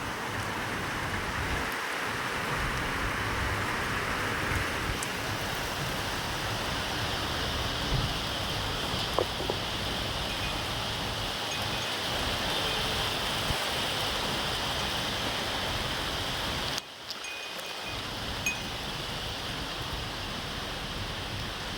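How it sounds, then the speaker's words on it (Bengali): Heavy rain pours down steadily, a dense even roar throughout with no break in intensity. "তার মধ্যে আবার এই এত বৃষ্টি নেমেছে"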